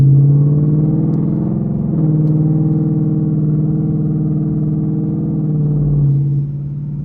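A 2022 Mustang GT 5.0 with aftermarket exhaust cruises on a wet, rainy road, its V8 giving a steady low droning rumble with slight shifts in pitch, heard from inside the cabin.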